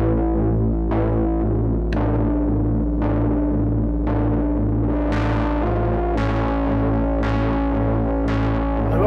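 Softube Modular software synth patch with a quarter-note clock triggering an ADSR into the FM input of a Gasmatron oscillator, giving a steady drone with a bright, gritty pluck roughly every second, dry with little reverb and no talking.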